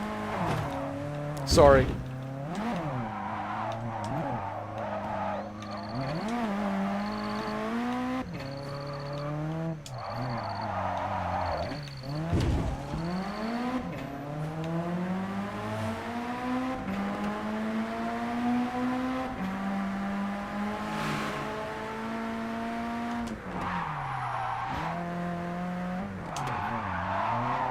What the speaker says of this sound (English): You see, drifting is much better now. Much better control on the drift.